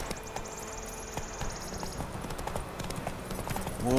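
Steady hoofbeats of Roach, the horse in The Witcher 3 video game, galloping in a quick repeating rhythm over a low ambient bed, with a louder swell at the very end.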